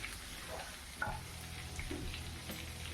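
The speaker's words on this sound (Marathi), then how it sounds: "तेलही थोडंसं गरम झालं की त्यामध्ये लसूण पेस्ट टाकून तेलामध्ये दोन मिनटं परतून घ्यायची" Garlic paste fries in hot oil in a kadhai, a steady close sizzle with soft stirring scrapes over it, prepared for a sprouts pav bhaji.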